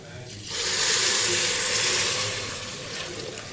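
Water poured onto rice already fried in oil in a pressure cooker for jeera rice, a loud broad rushing splash that begins about half a second in, holds steady, then eases slightly near the end, with no voices.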